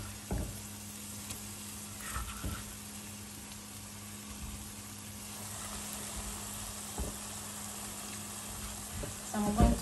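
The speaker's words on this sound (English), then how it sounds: "So I'm going to fry all of them together." Crayfish, fresh pepper and other Nigerian soup ingredients fry together, giving a continuous sizzle with a few sharp knocks of stirring scattered through it and a busier burst at the end.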